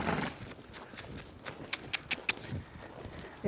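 Ridden horse's hooves clip-clopping in a riding pen, a steady walking rhythm of close, distinct hoof strikes, with little else around.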